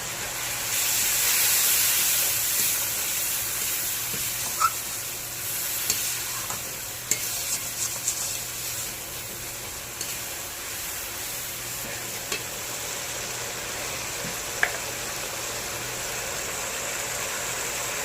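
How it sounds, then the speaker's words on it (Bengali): Green chilies fry in oil in a pan with water added, a steady loud sizzle and hiss broken by scattered sharp pops and ticks from the spattering oil, with no voice over it. "লঙ্কাটা একটু তেলে লড়ে দিলাম, করে একটু জল দিয়ে দিলাম।"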